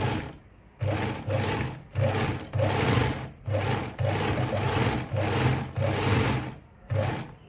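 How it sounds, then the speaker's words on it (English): A Veritas Zickzack 8014/29 sewing machine stitches in a series of about nine loud, close bursts of rapid whirring and clatter, separated by brief pauses, with no talking. "when I sew through, I can actually reduce it further to get a much more tighter stitch"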